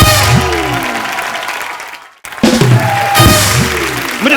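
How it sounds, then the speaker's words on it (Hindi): Studio audience applause on a Hindi comedy talk show stage, a broad wash of clapping with music underneath that fades briefly to near silence, then swells again with a loud burst of cheering and clapping. "जोरदार तालियां मासूम अकबाल जैन के लिए"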